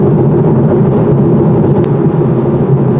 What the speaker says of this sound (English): A noisy car for long trips, at least with these wheels and tires